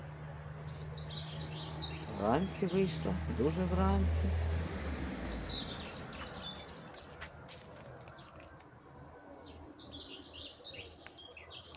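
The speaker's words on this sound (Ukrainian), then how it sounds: "Послухаємося трошки соловейка." Nightingale song with bright, varied chirps and trills carries in the background from a garden, partly under someone talking close by.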